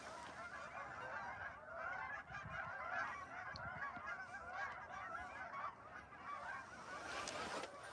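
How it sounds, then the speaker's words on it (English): A large flock of geese honks steadily as it flies past a wildlife watch spot near ponds, a dense overlapping chorus of calls running the whole time at moderate distance. "And we've got a lot of geese."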